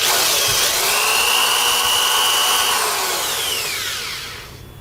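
A power drill bores steadily through carpet into the surface beneath, whining loud and close with a rising-falling pitch for about four seconds before winding down at the end.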